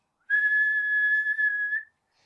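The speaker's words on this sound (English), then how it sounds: "We can whistle to make sure everything's working correctly." A person whistles one steady, clear tone into an acoustic probe, holding the note for about a second and a half with a slight waver near the end, close and alone in silence.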